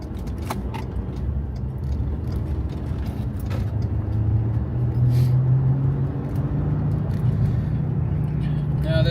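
Steady car engine rumble at a traffic light, with a low droning tone rising midway and traffic noise around it, under a busy outdoor scene with a bit of speech.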